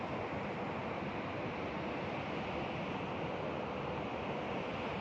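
River water rushes out below a flood-control dam used for hydroelectric power, a steady, broad hissing roar that holds constant throughout, heard from a distance with no voices.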